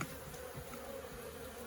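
Honey bees hum steadily in an open hive box in a busy bee yard, a dense continuous drone at close range with no voices.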